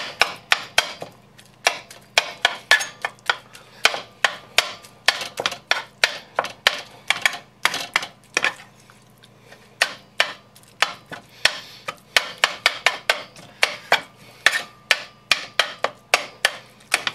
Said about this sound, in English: Now I'm gonna do some chopping.